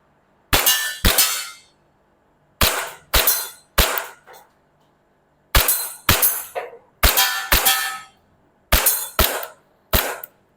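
A Double Bell 796-1 BB gun pistol fires in sharp, loud cracking shots, alone, often in quick pairs or triplets separated by short pauses, with no talking.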